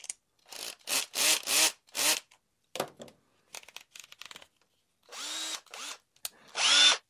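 A compact Makita DF030D cordless screwdriver runs in short repeated whirring bursts of varying length, close and loud, with no one talking.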